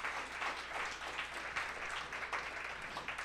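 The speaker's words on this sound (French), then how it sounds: "On peut leur donner une bonne main d'applaudissement encore une autre fois." An audience applauds after a presentation at a French-language event, giving steady, dense clapping that holds evenly throughout at moderate distance.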